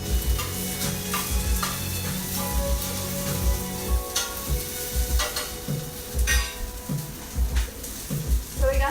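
Chopped vegetables including onion and eggplant sizzle in a hot frying pan while being stirred, a steady crackle punctuated by repeated close scraping and knocking of the utensil against the pan.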